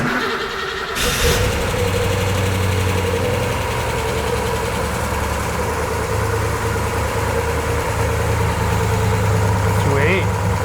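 A fuel-injected Ford Mustang engine starts and settles into a steady, loud idle with a constant low rumble, while people talk nearby over it.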